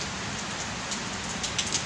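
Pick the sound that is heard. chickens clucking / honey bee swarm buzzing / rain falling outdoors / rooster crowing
rain falling outdoors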